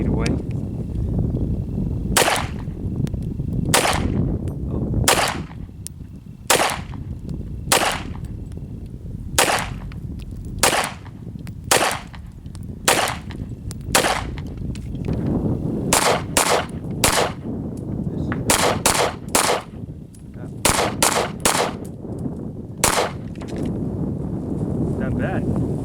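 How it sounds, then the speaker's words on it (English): A Ruger 9E pistol fires Federal Champion aluminum-cased bargain ammo at a target about 8 feet away, shooting a long string of sharp, loud, close shots that come evenly at first and then speed into quick bunched groups. "I want to see how it shoots out of the Ruger 90 here."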